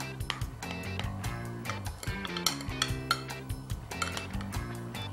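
A spoon scoops fig clafoutis made with black mission figs onto a serving plate, giving close, repeated clinks and scrapes of metal on dish with soft thuds between them. There is no talking.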